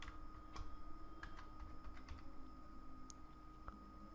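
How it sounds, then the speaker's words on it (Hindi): Keys tapped on a computer keyboard while a captcha code is entered on a login page, quick irregular clicks at a steady pace, close but quiet, with no talk. "देन आपको ये captcha code as it is यहाँ पर टाइप कर देना है"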